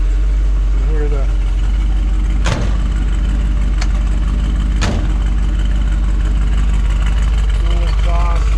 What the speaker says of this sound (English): Engine sounds fantastic.